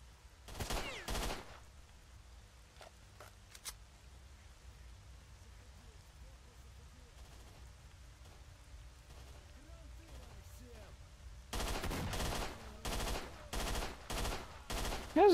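Gunfire in the video game S.T.A.L.K.E.R. comes as loud rapid bursts of shots near the start, then a long stretch of quiet ambience with faint distant pops, before heavy repeated volleys return toward the end.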